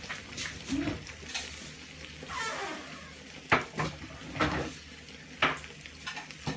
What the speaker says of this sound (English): Putting a tiny amount of butter in there.